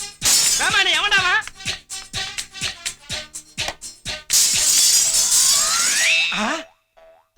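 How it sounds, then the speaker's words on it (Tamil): A window's glass shatters loudly in a long crashing burst, preceded by a run of sharp boing-like impacts and followed by a brief tail before silence. "தங்க மாதிரி இந்த ஜன்னல் உடைஞ்சிடுச்சே."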